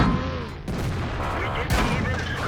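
Artillery shells landing during a World of Tanks battle, heard as a dense, continuous barrage of booms and gunfire with sharp impacts near the start and end.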